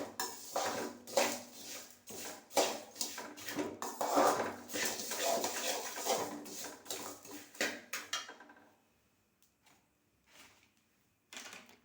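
Fenugreek seeds and toor dal roasting in a pan are stirred with a utensil, producing repeated close scraping and rattling clatters in quick bursts, then the activity falls away into near silence with a last few faint knocks.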